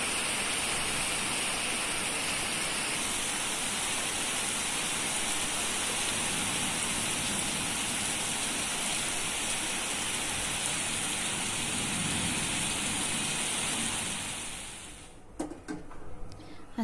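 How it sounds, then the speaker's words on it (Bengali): Steady rain falls on a rainy day, a continuous even hiss that holds unbroken for most of the stretch before dropping off near the end into scattered knocks and handling sounds. "আজকে সারাদিনই বৃষ্টি হচ্ছে,"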